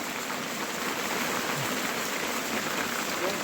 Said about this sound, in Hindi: और ये तुंगनाथ में होती हुई हेल स्टॉर्म।